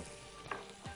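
Onions frying in a pan while softening, a steady low sizzle with one brief stir or clink partway through, no talking.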